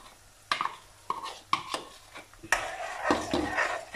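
Spoon stirring tomato paste into frying masala for a chickpea chhole curry, with several distinct scraping knocks against the pot followed by a busier, louder stretch of stirring and faint sizzle, close and without voices.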